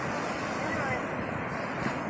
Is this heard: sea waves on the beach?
yes